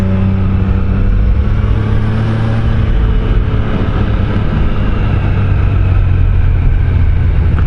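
Motorcycle engine revving up as the throttle opens and the brake is released on a ride in Slovenia near Lake Bohinj, a steady loud drone that builds and holds throughout, close to the rider with wind noise.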